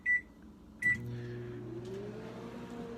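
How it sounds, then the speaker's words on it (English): A microwave oven heats a bacon cheeseburger: two beeps as the door closes and the oven starts, then a steady, close hum runs alone with a low electrical drone. "so we got the burger in the microwave"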